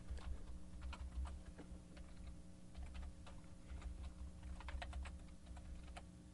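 Quiet, rapid keystrokes on a computer keyboard, irregular clusters of small clicks over a faint steady hum, with no one talking.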